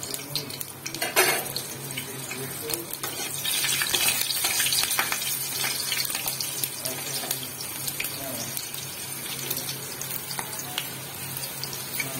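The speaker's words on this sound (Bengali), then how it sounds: "এবার আমি কড়াইতে তেল গরম করতে দিয়েছি। আমি প্রথমে লঙ্কা 2টো কড়াইয়ে দিয়ে দেবো।" Two green chillies fry in hot oil in a wok, a loud, continuous bubbling sizzle that swells in the middle, with occasional clatter of a utensil and a little background speech.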